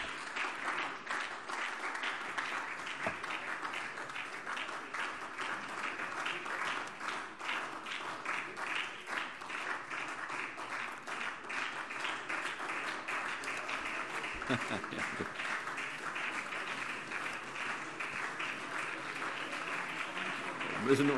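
Applause fills a parliament plenary session, a sustained, moderately distant clapping from many hands that continues steadily for the full stretch without talk over it.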